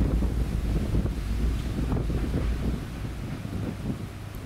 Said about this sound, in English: I'd like you to open your windows and pay attention to the breeze or the flow